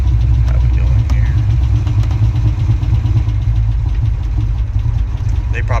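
A 1984 Monte Carlo's engine runs close by in a steady, heavy low rumble that holds throughout, with faint chatter and small clicks on top.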